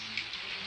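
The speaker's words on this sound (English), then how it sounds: "it's raining" Rain falls outdoors as a brief, faint, steady hiss of drops with nothing else heard.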